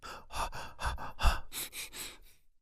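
A voice imitates short, shaky, interrupted breaths, about seven or eight quick gasping inhales and exhales in a row, close and fairly soft.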